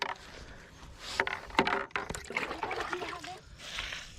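Water trickling and splashing onto garden plants during watering on a hot morning, irregular close pours and splatters with people talking over and between them.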